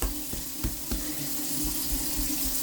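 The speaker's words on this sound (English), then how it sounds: "put a little bit of water and mix it" Water runs and splashes briefly as a little is added to seasoning on a big brisket and mixed in, with a few sharp knocks near the start of the short, close burst.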